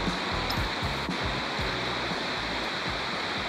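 A rushing creek pours steadily, a loud broadband roar of churning water with no speech, constant throughout with small splashing pulses underneath.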